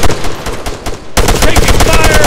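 Sustained gunfire in an Arma 3 PvP battle, rapid overlapping shots and bursts that grow louder and denser halfway through, close and continuous with no pauses.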